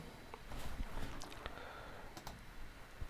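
Quiet typing on a PC computer keyboard, a short run of light clicks and key taps at close range, fairly faint, with no talking.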